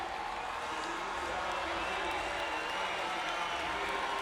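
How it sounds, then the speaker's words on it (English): A crowd cheers at a Paralympic swimming race, a broad, steady wash of distant cheering and applause filling the pool hall without a break. "Eduardo Silva is being cheered on by the crowd"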